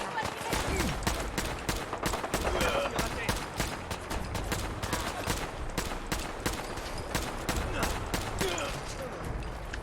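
Rapid gunfire from a weapon in the video game Fallout 4 rattles in dense, fast bursts across the whole stretch, sharp cracks tightly spaced like a machine gun, fairly quiet overall.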